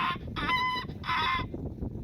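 A person vocally imitating the call of a tuki bird, giving two clear, high, tonal calls in quick succession, close and loud, with a short gap between them.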